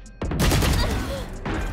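Dense, rapid gunfire from the Valorant video game fills the clip in a loud, continuous burst after a short quiet start. It barely dips near the end before more shots crackle on, with a voice faintly underneath.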